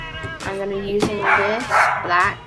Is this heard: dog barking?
yes